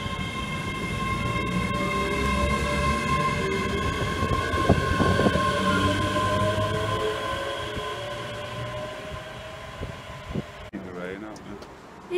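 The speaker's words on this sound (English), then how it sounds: "This is a train that's going to take us all the way." A Hitachi class 385 AT200 train hums and rumbles close by, a steady electric whine with tonal motor notes and clanks of the carriages, a brief sharp sound near the end, with people talking.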